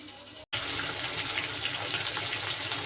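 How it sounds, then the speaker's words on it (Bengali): Greens are washed under a running tap, a continuous hiss of flowing water splashing in a sink, interrupted by one brief silent gap near the start. "এখন শাকগুলোকে ধুয়ে নিব"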